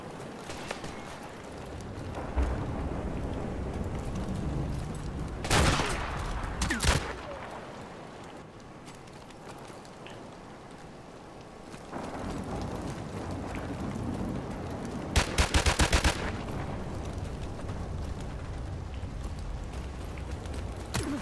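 A shooting video game with a few sharp gunshot bursts, two near the start and a rattling volley later, standing out from a steady background of game ambience.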